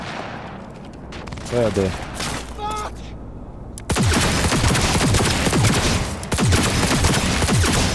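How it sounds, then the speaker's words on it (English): Bursts of automatic gunfire crackle in a firefight in the video game Cyberpunk 2077, sporadic at first and then dense and sustained, with a person talking over the opening shots. "Who's shooting at me?"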